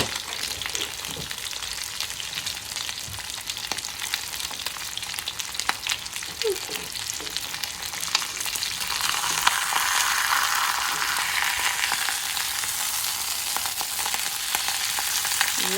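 Porterhouse steak sizzling in a pan, a steady bright frying hiss with occasional crackles that grows slightly louder partway through, with no talking.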